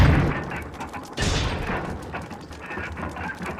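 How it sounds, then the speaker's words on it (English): A heavy coffin drops in Resident Evil HD Remaster, a loud booming impact at about 1.2 seconds over continuous rumbling game ambience and low noise. "once we use the final death mask, the coffin will drop"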